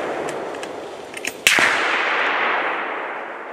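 A single sharp gunshot during a driven big-game hunt in Poland cracks loudly mid-clip and echoes away over the outdoor ambience, preceded by a couple of faint distant knocks.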